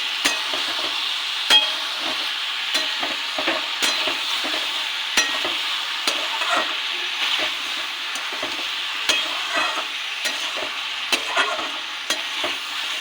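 A vegetarian curry with red chilli powder and roasted cumin powder sautés in a pan, giving a continuous close sizzle broken by regular scraping stir strokes throughout.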